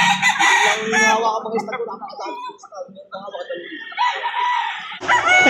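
A rooster crows close by at a chicken market, one long call followed by more crowing and clucking from other birds, with people talking nearby.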